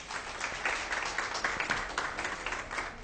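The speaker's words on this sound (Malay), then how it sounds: "Tepukan lagi sekali." An audience applauds steadily in a hall during a success-story talk, a dense wash of clapping that holds at an even level throughout, with no voices over it.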